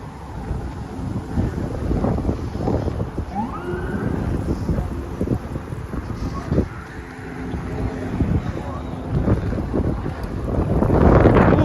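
Strong gusts buffet the microphone outdoors in Central Park, New York, a continuous rumbling roar that swells and surges throughout, loudest toward the end, with faint background sounds underneath.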